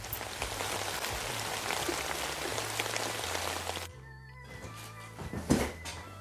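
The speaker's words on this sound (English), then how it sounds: "of course it's starting to rain" Rain begins falling outdoors, a dense steady patter of drops on surfaces that then thins out to scattered drips with a faint thump near the end.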